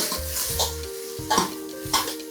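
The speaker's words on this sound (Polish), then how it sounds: "Lekko zamieszam warzywa, które siedzą w rądlu." Vegetables being stirred in a pot while fish soup is cooked, a soft sizzle under a few scraping spoon strokes and light clinks of utensil against cookware, close by and without talk.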